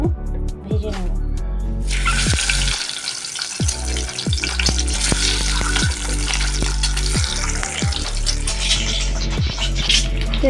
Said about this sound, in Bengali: এখন আমি ডিমটা খুব সাবধানে ভেজে নেব।